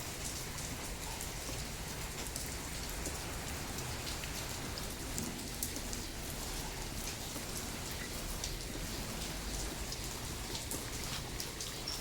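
Steady, dense rainfall patters on surfaces near a storage warehouse, a constant even hiss with no voices.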